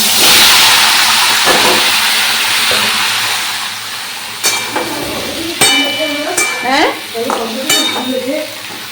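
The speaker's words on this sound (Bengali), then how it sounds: "এখন আমি সবজিগুলো দিয়ে ভাজা ভাজা করবো" Loud frying sizzle and stirring dominate at first, then fade as someone talks over softer hissing with a few sharp utensil clicks.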